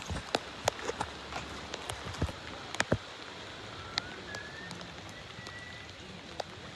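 Light rain falls on a hill-fort trail while climbing toward Rasalgad in the Sahyadri hills of Maharashtra, a faint steady patter with scattered close drops and clicks over a soft hiss.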